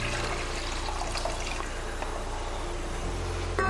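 Water poured from a measured vessel into soaked millet in a pot, a steady continuous splashing and trickling stream, close and fairly loud, with no talking.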